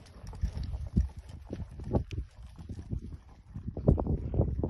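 A ranch horse's hooves clip-clop over wet ground during a warm-up, irregular thudding steps close by with scuffing and rustle between them, alone with no talking.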